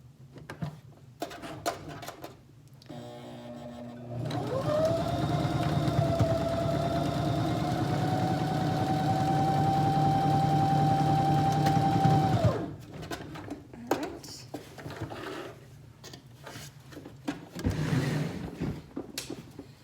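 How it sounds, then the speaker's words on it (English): A home sewing machine runs steadily with a whirring motor hum for several seconds, surrounded by short bursts of clicking and handling noises before and after, while sewing a fabric face mask. "Turning my sewing machine off in between because I have a dog that loves the pedal."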